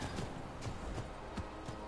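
Horse hooves clip-clopping in the video game Skyrim, a moderate run of muffled, fairly regular hoof beats over a steady background hum.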